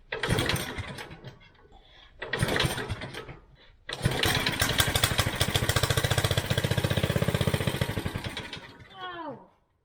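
A $50 second-hand go-kart engine cranks in two short loud bursts, then catches and runs with a steady buzzing putter for about five seconds before cutting out, close to the mic.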